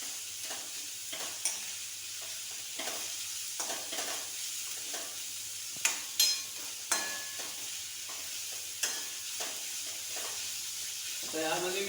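Onion, garlic, ginger and mustard seeds frying in hot oil over a full gas flame for a potato bhaji, a steady broad sizzle with scattered stirring scrapes and a few sharper pops.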